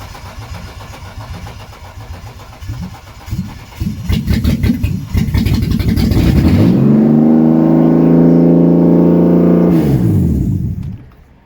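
A BMW E36 Coupe with a freshly installed 2.8 engine cranks with rapid uneven starter chugging, then fires and settles into a loud steady idle before cutting off.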